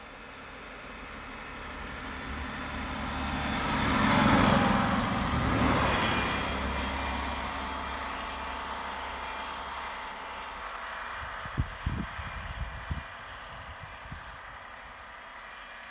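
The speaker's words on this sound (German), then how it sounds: "Und in der Gegenrichtung ebenfalls die Regionalbahn 44." Regional train RB 44 passing on the opposite track near Zella-Mehlis and Oberhof: a broad rumbling whoosh swells to a peak and fades away, followed by a few sharp clanks and rattles, heard from on board over steady running noise.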